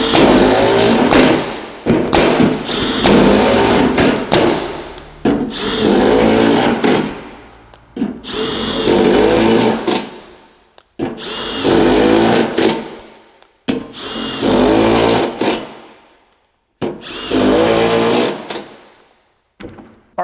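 Collated screw gun driving scrails into metal roofing, several loud, close bursts of whirring drive of two to three seconds each, separated by brief pauses.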